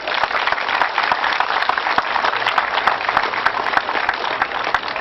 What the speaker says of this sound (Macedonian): Ве молам еден голем аплауз за нив.